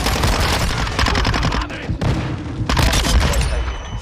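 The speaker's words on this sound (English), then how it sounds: "Throwing frag grenade!" A frag grenade blast and rapid gunfire in the video game Call of Duty: Modern Warfare 2, loud and dense bursts of automatic shots and booms continuing throughout with short gaps.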